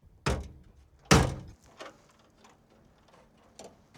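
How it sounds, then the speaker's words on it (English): Hotel room doors being installed on a car produce a few heavy thunks and clunks, two loud impacts close together followed by softer knocks and rattles, with no talking. "so we're gonna install those doors."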